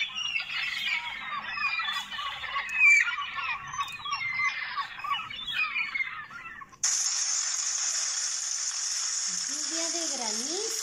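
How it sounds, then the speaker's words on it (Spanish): Seagulls cry over the sea in a busy, overlapping chorus of shrill calls for about seven seconds, then cut abruptly to a steady hiss with a voice speaking near the end. "Las gaviotas en el mar."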